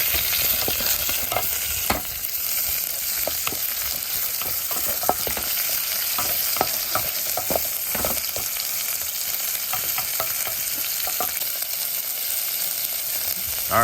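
Squirrel meat tossed with caramelized garlic sizzles steadily in a hot pan, with a continuous close frying hiss broken by repeated scraping stir strokes throughout.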